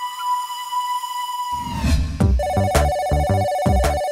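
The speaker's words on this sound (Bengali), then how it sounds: "এ কি এত রাতে ফোন?" A telephone rings late at night in a cartoon, a sustained electronic tone giving way to a rapid, repeating pattern of bright ringtone beeps, loud and close.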